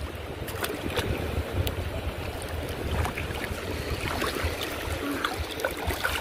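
Ocean waves break steadily on a beach in Bintan, Indonesia, a constant rushing wash of surf with wind buffeting the microphone throughout.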